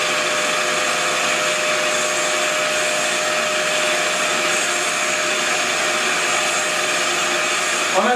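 Electric mixer beating butter and sugar at full speed for a Nantais cake, a steady, loud, high-pitched whirring drone that holds constant for several seconds with no pauses.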